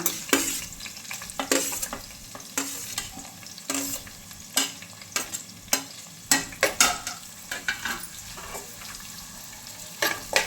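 Ingredients for ghee rice fry in a pan, with a spoon scraping and knocking against it in irregular strokes over a soft, continuous sizzle.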